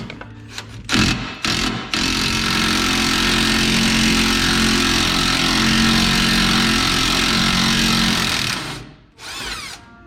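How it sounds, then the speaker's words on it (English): An electric impact wrench removes a rusty transfer case bolt on a Ford Super Duty truck, a few short bursts followed by a long, loud, steady hammering whir of about seven seconds, then a brief final burst, close and with no talk. "hopefully the electric impact won't get held up here, but we'll try"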